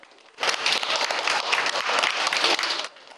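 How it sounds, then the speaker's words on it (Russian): Enthusiastic applause from an audience of high school students at the end of a talk at a charity photo exhibition, a dense burst of clapping lasting about two and a half seconds, close and loud. "а бурные овации в конце – тому яркое подтверждение"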